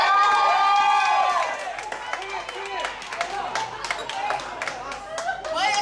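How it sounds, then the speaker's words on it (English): Audience at a Filastine & Nova Drapetomania Tour 2017 show hosted by BetelNut Bali, cheering and clapping, loud at first and then scattered applause with shouts carrying on. "Why everybody is cheering up?"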